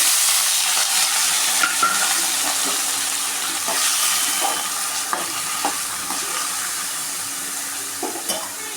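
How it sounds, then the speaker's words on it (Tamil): Chopped bottle gourd sizzles and sautés in hot oil with popped mustard seeds, a steady loud frying hiss broken by scattered crackles and the scrape of stirring, with no voices. "இது எண்ணெயிலே கொஞ்சம் நேரம் நல்லா வதங்கட்டும்"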